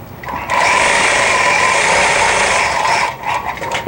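A longarm quilting machine stitches a straight line with a micro-stitching ruler, giving a steady, close, high-pitched mechanical whir that runs for about three seconds and then stops.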